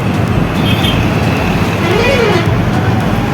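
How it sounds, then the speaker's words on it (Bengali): Traffic on a Kolkata national highway makes a loud, continuous roadway rumble as buses and cars pass nearby, with faint horn toots and a brief rising engine whine partway through. "this is Kolkata national highway"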